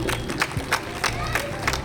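An audience at a swearing-in ceremony of the Kumaon cultural society claps and cheers for a newly introduced vice-president, the applause loose and uneven with scattered claps and crowd murmur close by.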